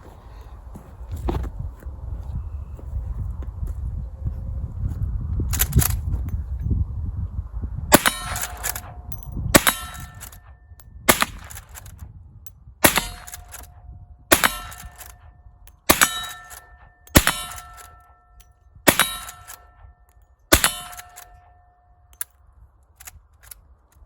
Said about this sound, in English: We'll just shoot a little bit of steel with it and call it a night.